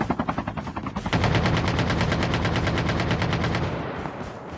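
Rapid bursts of automatic gunfire in Call of Duty Mobile, first a short rattling volley and then a long sustained stream of shots, loud and close.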